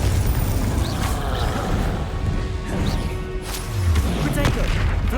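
Confringo blasting-curse explosions in the Hogwarts Legacy game during a troll fight, a dense, loud run of crashing booms and impacts over a constant rumbling bed, with a voice calling out over the battle.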